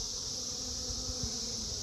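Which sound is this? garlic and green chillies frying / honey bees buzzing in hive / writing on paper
honey bees buzzing in hive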